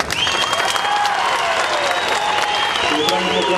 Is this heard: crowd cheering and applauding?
yes